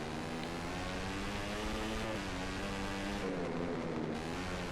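Video game motorcycle engine in MotoGP, a steady high droning whine with layered harmonics holding level through an acceleration along the pit straight, with no talk over it.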